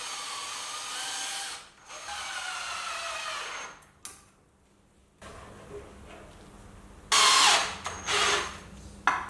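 A power drill drives screws into a 2x4 wooden frame in several close, loud bursts of whirring, with short pauses and a quieter gap in between.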